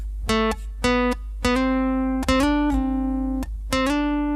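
Several plucked guitar notes, each sliding up in pitch and back down, ringing out clearly one after another with short gaps.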